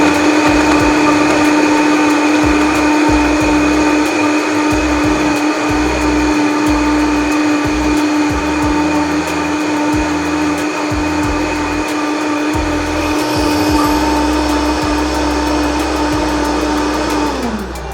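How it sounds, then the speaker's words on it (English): A blender whirs loudly and steadily while blending a Valentine's Day cocktail, a continuous close motor whine held for many seconds before it winds down and stops at the end. "We're gonna cover our blender and blend this up."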